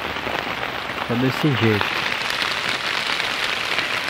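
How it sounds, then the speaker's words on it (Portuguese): Steady rain falls on a battered hut in Pará, Brazil, a dense even hiss of drops on the roof that lasts the whole clip, with someone speaking briefly over it. "Aí no dia que eu venho gravar a chuva,"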